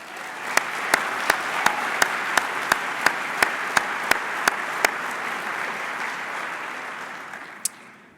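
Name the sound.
applause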